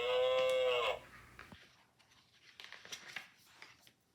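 A single loud, close cow moo fills the first second, followed by quieter rustling and faint clicks.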